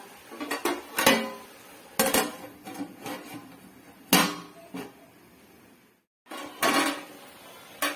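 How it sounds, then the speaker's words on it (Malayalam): A lid goes onto a pot of aviyal with a run of close metallic clanks and clatters, several sharp knocks spaced a second or so apart with quiet gaps between them. "ഇത് ശകലം നേരം കൂടെ നമുക്കൊന്ന് അടച്ചു വെക്കാം."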